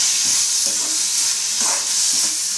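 Mint and coriander leaves sauté in a pan for a chutney, a loud steady hiss of frying under soft stirring scrapes and shuffles, close up and without voices.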